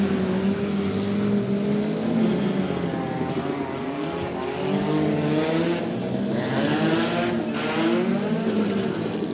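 Demolition derby cars at the Clinton County Demo Derby rumble and rev continuously, several engines droning and climbing in pitch together, loud and steady throughout with no talk.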